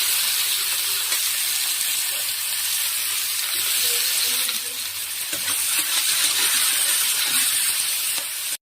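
Chopped onion fries in hot oil with cumin, bay leaf and a dried chilli, giving a loud, steady sizzle and hiss with occasional soft stirring clinks, and no one talking.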